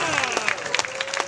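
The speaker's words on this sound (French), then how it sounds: "Encore un tonnerre d'applaudissements pour la Miss" Audience applause at the Miss Burundi 2017 pageant final, a steady patter of many hands clapping in a hall, with a sustained tonal voice or music running underneath.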